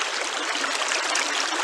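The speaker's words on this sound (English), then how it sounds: "River water, we're up on the river." Rock Spring River in Freeman's Hall, Trelawny, Jamaica, rushes steadily along its bank, a close, continuous broadband stream of flowing water with no talk over it.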